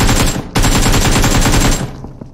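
Automatic gunfire in the mobile shooter BGMI rattles loud and close in a rapid burst lasting over a second, then cuts off to a few faint trailing clicks.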